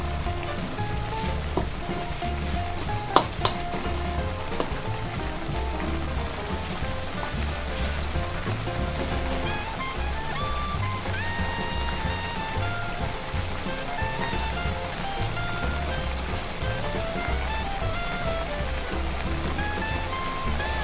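Instant noodles simmering in broth in a pot for mie tek-tek kuah, a continuous dense bubbling and crackling boil at steady level, no speech.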